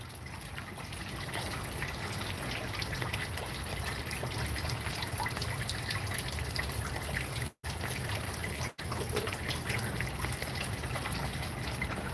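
Steady trickling and running water in a backyard in 30-degree weather, a continuous soft wash of rain with dripping, briefly cut out twice.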